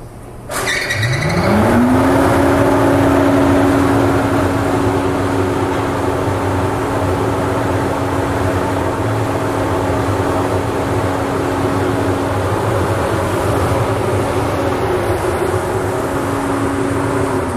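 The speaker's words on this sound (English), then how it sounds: "The first thing we're going to demonstrate for you is the blower." Blower of a Torit Donaldson DFT2-4 four-cartridge down-flow dust collector starting up with a click and a rising whine that settles into a steady loud hum and drone, running continuously without speech.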